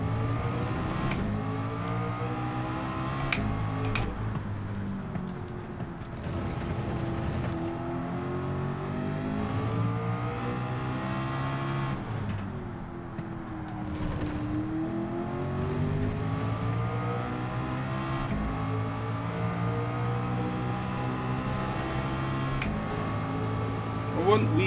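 A Group 3 race car engine in the video game Gran Turismo 7 at the Nürburgring GP course: a steady, droning engine that rises and falls in pitch through gear changes and braking, with someone talking over it.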